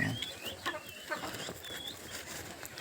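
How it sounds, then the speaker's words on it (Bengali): Sonali chickens cluck softly inside a pen. Several short, overlapping clucks and chirpy calls sound at close range against a low background of rustling. "সব সোনালি মুরগি, এগুলো সব সোনালি মুরগি"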